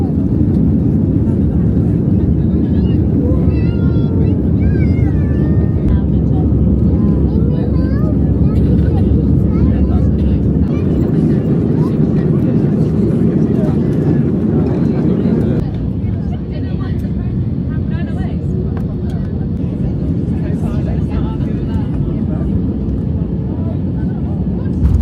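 An airplane cabin during takeoff, a loud steady engine roar and rumble that holds throughout and shifts to a lower, slightly quieter drone partway through, with people talking under it.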